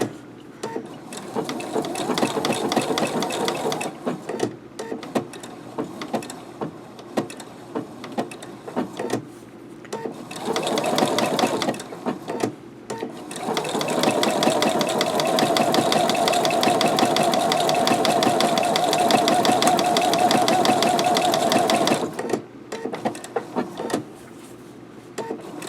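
A sewing machine stitching appliqué, running in long close bursts of rapid mechanical whirring that stop briefly and start again, with a longer steady run near the end.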